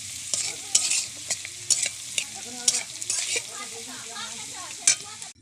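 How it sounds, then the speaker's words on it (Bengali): Pasta and fried egg being stirred together with turmeric-spiced fried vegetables in a pan, giving repeated sharp scraping and clinking strokes over a steady sizzle, with no talking. "সবজির সঙ্গে মিশিয়ে নিচ্ছি পাস্তা, ডিম।"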